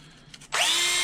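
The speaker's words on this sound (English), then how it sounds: "Now I just have this little 12-volt drill that I keep on my electronics" A small 12-volt cordless drill on an electronics bench spins up abruptly after a couple of faint clicks, then holds a loud, steady high-pitched whine close by.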